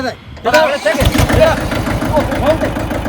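A new tractor's engine starts up and settles into a loud, steady rhythmic idle, with a voice talking over it.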